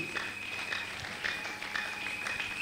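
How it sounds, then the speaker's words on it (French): Guests at a church wedding blessing applaud the newly married couple, a light, fairly distant patter of clapping running evenly under a steady high electronic tone. "Voilà, sous nos acclamations."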